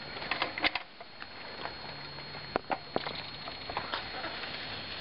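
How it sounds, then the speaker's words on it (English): Light, irregular pattering taps of rain close by on a tarp at a Minnesota lake, soft drips falling sporadically over a quiet background. "Still raining a little bit"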